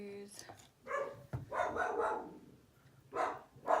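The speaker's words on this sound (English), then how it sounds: "I knew you should start barking at some point." A dog barks a few times at close range indoors, short sharp bursts spaced unevenly, with a voice talking around them during a makeup session.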